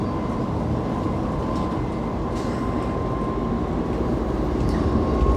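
A Norwegian train runs at speed on the Dombås–Trondheim line, heard from inside the driver's cab: a loud, steady rumble with a constant tonal hum, unbroken and without any talking.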